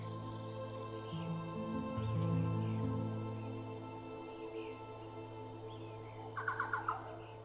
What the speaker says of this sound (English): a melody of birdsong returns to the mountain